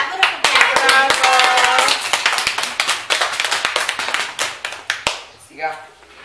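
A group of children claps in a classroom-style gathering, many hands beating fast and irregularly before thinning into scattered separate claps, with a brief voice near the end.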